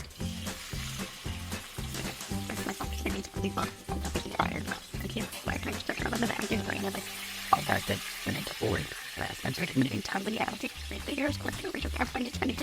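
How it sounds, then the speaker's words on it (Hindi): Bay leaf and tomato frying in hot oil while cooking rajma paneer: a steady, close sizzle and crackle runs throughout, with occasional stirring clatter beneath a speaking voice. "इधर मैंने तेल भी गर्म कर लिया है। तेल में हम तेज पत्ता डालेंगे, इसमें टमाटर डालेंगे"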